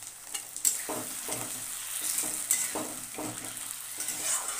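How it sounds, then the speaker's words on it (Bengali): Prawns, egg and chicken frying in a pan for mixed fried rice: a steady bright sizzle with occasional soft stirring bumps, close and fairly quiet. "এটা তুলে নিয়ে তারপরে এখানে আমি এক এক করে চিংড়ি মাছ আর এগ আছে আর চিকেন আছে, এটা ভেজে নেবো"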